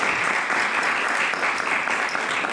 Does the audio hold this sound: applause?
yes